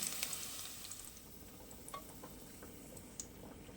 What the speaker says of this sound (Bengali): এই তেলেই ভেজে নিচ্ছি দুটো মিডিয়াম সাইজের আলু